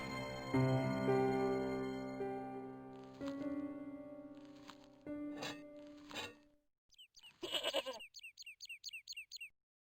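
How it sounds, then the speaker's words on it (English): An old goat tethered by a rope bleats in the Broken Sword video game, set in Ireland, with a few short bleats over sustained musical tones, followed by a quick series of high squeaky calls. "It was the fiercest, meanest-looking old goat I'd ever laid eyes upon."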